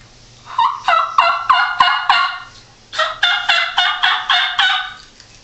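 Two bursts of rapid, rhythmic soft yelping from a Primos turkey call imitating a young hen, each a run of about six or seven close, clear notes, loud and alone.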